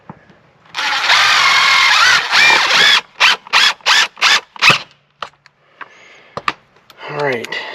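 A power drill drives screws into a gas line fitting at a wall, first in one long whirring run, then in five short, sharp trigger bursts, followed by a few brief clicks and quieter handling.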